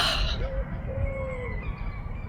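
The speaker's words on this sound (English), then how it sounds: "Hear the birds. I know you can hear seagulls, but I can hear doves." Birds calling in a garden, including seagulls and doves, with a few drawn-out tonal calls rising over a low rumble of background noise, fairly close and brief.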